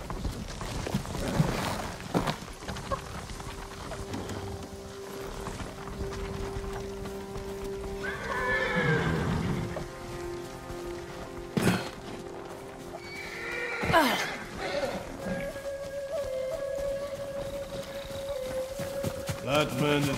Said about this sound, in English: Follow those horses.